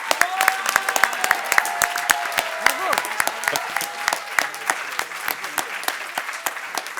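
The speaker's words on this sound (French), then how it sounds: "On applaudit également Iyad Toubaïs." Applause from the audience at a high school debate prize ceremony, crisp individual claps from a modest crowd sounding close and sharp over seven seconds, with brief speech and a sustained tone woven underneath.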